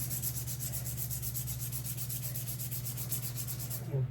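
Fine grit sandpaper rubs by hand across a copper band in a quick, even back-and-forth rhythm, a soft close scratching with a low background hum and no voices.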